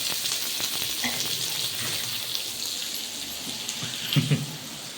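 Fish frying in a pan with curry leaves, a steady broadband sizzle and crackle filling the clip at moderate volume, with a few brief louder pops near the end and no voices.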